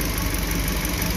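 A Suzuki New Carry engine idles at low RPM while overheating, a steady low rumble with a faint whine on top, continuous and close for the whole stretch.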